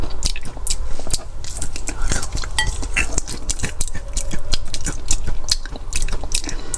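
Close-up chewing of a fried turtle egg with an oddly grainy yolk, steady wet bites and mouth noises alongside faint clinks of cutlery, with a voice talking now and then.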